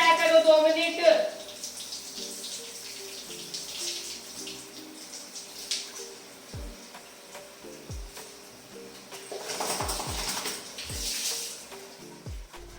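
Water runs steadily into a tub while a dog is being bathed at home, a continuous splashing wash with a voice talking over it.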